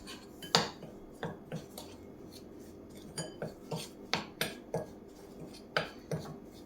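A metal spoon scrapes and knocks against a pot as chicken masala is mixed into oil for chicken manthi, with repeated irregular clinks and scrapes, close and fairly clear.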